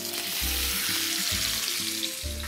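Meat searing in a well-heated frying pan with vegetable oil, a steady loud sizzle with crackling running throughout, no talk.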